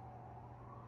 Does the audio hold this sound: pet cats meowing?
no